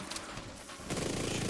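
A short burst of automatic gunfire in The Division 2 during an Incursion mission, starting suddenly about midway through and running loud to the end.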